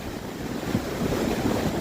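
Rushing whitewater at the White Water Walk, a loud, steady churning roar of fast rapids with a wind-buffeted rumble, constant throughout.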